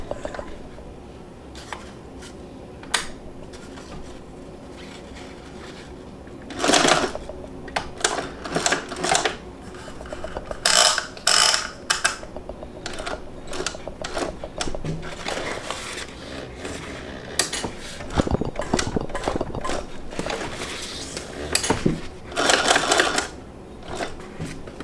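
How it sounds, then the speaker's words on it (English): A home sewing machine stitches across a rectangle of fabric holding a D-ring, short bursts of rapid mechanical chatter with pauses between runs, close to the microphone. "Now I'm gonna head over to my machine and I'm gonna sew right on top of that rectangle"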